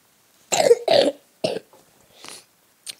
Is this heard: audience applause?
no